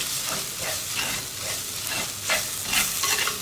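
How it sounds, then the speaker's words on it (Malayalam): Rasam powder and spices are stirred in oil over a low flame, soft repeated scraping strokes over a gentle continuous sizzle, close and steady. "ഇനി ഇതൊന്ന് ലോ ഫ്ലെയിമിൽ തന്നെ ഇട്ടിട്ട് ഇളക്കി കൊടുക്കുക"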